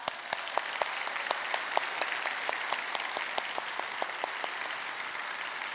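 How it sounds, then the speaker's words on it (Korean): Church congregation claps in thanks for the pastor at a Sunday afternoon service, a steady, fairly distant wash of applause with sharper individual claps popping out across the hall. "박수 한번 보내드리겠습니다"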